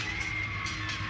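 Crowd noise at a women's college gymnastics meet with West Virginia and Texas teams competing, a steady dense murmur with scattered cheers and shouts filling the arena throughout, no clear speech.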